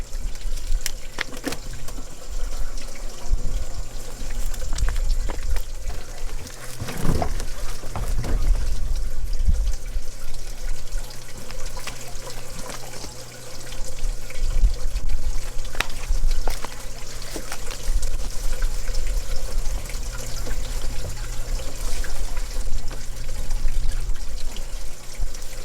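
Water running steadily as garden plants are watered at a small Appalachian homestead, a continuous near pouring and trickling wash with a few brief knocks and splashes partway through.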